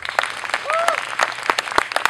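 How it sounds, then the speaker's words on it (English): An audience at an awards event claps in scattered, uneven bursts, with a voice speaking over the applause. "If you work two shifts, please clap."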